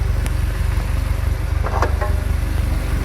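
A warmed-up 2015 Toyota Avanza engine idles steadily with a dense low rumble and even pulsing, close and continuous, with a few faint brief clicks and knocks above it.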